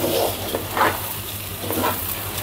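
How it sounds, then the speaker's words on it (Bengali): Rice fries in a pan with garlic paste and ginger paste for pulao, a steady close sizzle with soft scraping stirs recurring every half second or so. "এখন আমি চালটা সুন্দর করে ভেজে নেব।"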